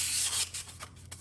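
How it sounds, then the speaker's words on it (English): Light hand sanding inside a Honda TRX90 engine cylinder with 600 grit sandpaper and penetrating oil, a close, soft abrasive rubbing in a few short strokes over a low steady hum. "we're just gonna give a little light sanding here, and this should be enough to maybe take out those ridges"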